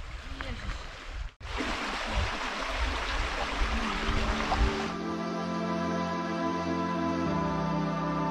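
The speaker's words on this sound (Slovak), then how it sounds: "Tu tečie potôčik Svarinka." Svarinka, a small Slovak stream, rushes and splashes as a steady broadband wash heard while cycling past, with a brief dropout, then fades under a steady mechanical hum in the second half.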